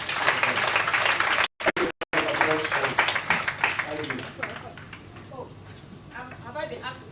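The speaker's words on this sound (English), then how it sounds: "A round of applause." A crowd at a corporate girls-in-ICT event breaks into dense, continuous applause that gradually thins out, with voices and chatter mixed in underneath.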